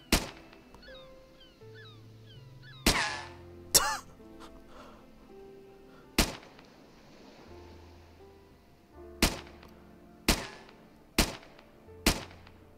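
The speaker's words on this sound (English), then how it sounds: "I think it's finally time we can shoot zombies" Gunshots from zombie shooting in Minecraft, sharp isolated bangs spaced irregularly, about eight reports with short decaying tails, no talk.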